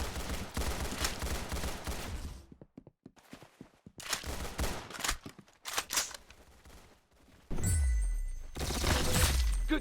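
Rapid bursts of gunfire from a shooter video game, with volleys and shattering impacts broken by brief quiet gaps, then a sustained loud stretch of continuous game noise near the end.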